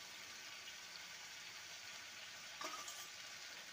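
Fried potato pieces dropped into hot, oil-releasing masala for egg ghugni, giving a steady faint sizzle throughout with a brief louder splash and crackle near the end.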